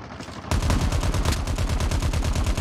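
Lightning weapon in a video game fires a rapid, sustained burst of crackling electric shots, a loud steady stream of sharp pulses starting abruptly after a brief quiet moment.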